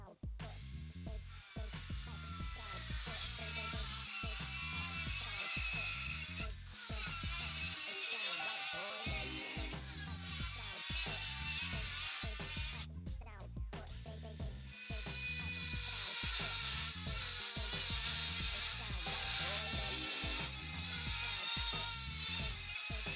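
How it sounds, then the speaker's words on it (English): DeWalt DCG409 cordless angle grinder on an 18-volt 5 Ah battery cutting through steel rebar and threaded rod, a loud steady high-pitched whine with repeated abrasive cuts and a brief drop in the middle before resuming. "cutting through rebar and threaded rod to see how the DCG 409 performs against the DCG 405"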